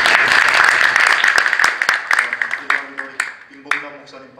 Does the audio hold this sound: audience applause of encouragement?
yes